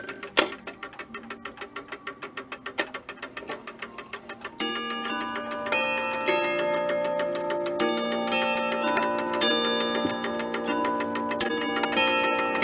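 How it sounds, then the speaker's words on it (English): A mantel clock ticks steadily, then strikes the full hour chime: a sequence of clear ringing bell tones at regular intervals, each decaying over the steady ticking, close and fairly loud. "bring it up to the full 1 hour chime"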